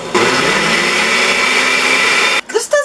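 A blender whirs steadily at full power, mixing jalapeno butter, a loud continuous motor drone that stops abruptly near the end, followed by brief clatter.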